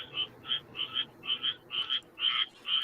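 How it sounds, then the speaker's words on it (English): Frogs croaking outdoors in the Florida backwoods, a steady run of rhythmic, evenly spaced trilling calls repeating about twice a second, moderately close and alone. "You fucking know it's frogs."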